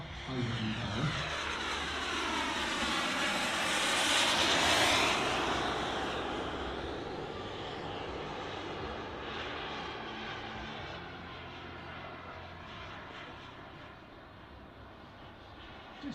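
A model carrier-based aircraft flies past at an outdoor model air show, its engine droning up as it nears, peaking, then easing away into the distance, with no talk.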